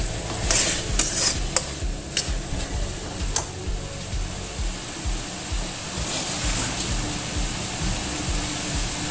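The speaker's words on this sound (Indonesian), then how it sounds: "Tumis-tumis terlebih dahulu ya" Chicken and carrots being stirred and tossed in a hot pan, with steady sizzling and a few sharp clinks of a utensil against metal, no voices.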